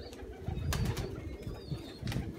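Pigeons coming down to land after circling, with bursts of wing flutter and faint cooing nearby against low outdoor noise, no voices.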